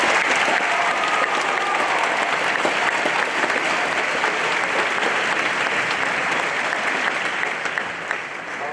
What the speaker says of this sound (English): I think everybody needs to give them a round of applause.